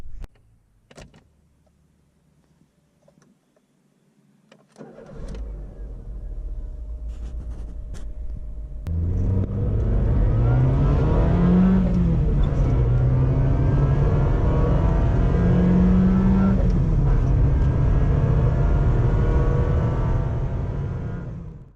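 A car engine starts, then revs up and accelerates hard, rising and falling in pitch through gear changes, loud and close inside the cabin.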